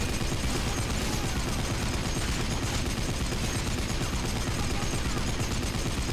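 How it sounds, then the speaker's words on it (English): Continuous, dense machine gun fire from the video game Blades of Time, loud and unbroken throughout with no pauses between bursts. "But I'm gonna pull out the machine gun again."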